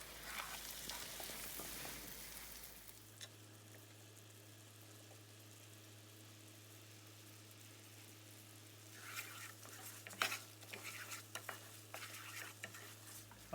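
Pine nuts cooking slowly in a pan with sugar, a soft steady sizzle and hum, then a burst of spoon-stirring scrapes and light clinks near the end, close but quiet.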